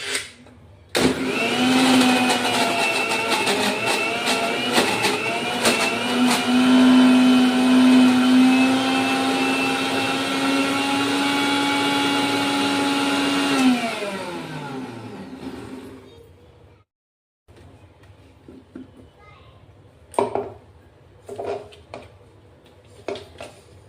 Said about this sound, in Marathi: फक्त मिक्सरला 2 मिनिटं फिरवणार आहेत आपण।